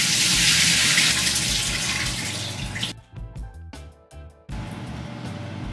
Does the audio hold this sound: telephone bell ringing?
no